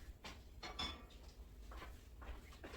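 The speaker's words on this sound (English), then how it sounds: "let me get the other skillet." Metal skillets and pans clank and clink a few times while being handled in a home kitchen during dinner-roll baking, several short, close knocks spread over a few seconds with no talk.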